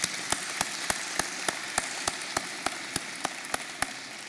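An audience at a university Faculty of Science convocation ceremony claps, a sparse, even rhythm of distinct hand claps over a soft, wide hall wash.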